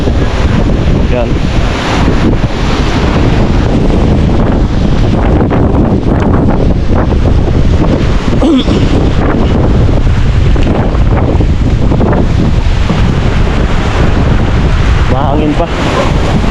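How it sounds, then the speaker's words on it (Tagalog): Strong typhoon wind blowing outdoors after the storm passed through Camarines Sur, a loud, continuous roar buffeting the microphone with rushing gusts and no letup throughout. "Mahangin pa."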